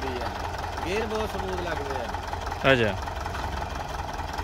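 A 1954 Someca 650 Fiat tractor engine idles with a steady low rumble, while someone talks briefly over it.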